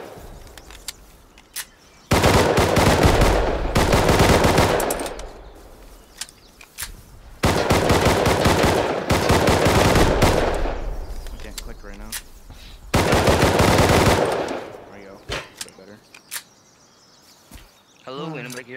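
Heavy bursts of machine gun fire in a combat video game, three long loud volleys of several seconds each separated by quieter gaps with players talking over the action.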